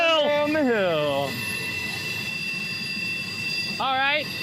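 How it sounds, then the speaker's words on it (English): Freight trains pass on a railroad, giving a steady loud rumble with sustained high metallic wheel squeal and ringing tones; someone talks briefly at the start and again near the end. "We're just surrounded by freight train right now."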